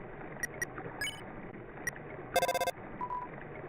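In-game phone call in Undertale, a few short blips and a brief electronic ringing burst over soft background music, faint and close.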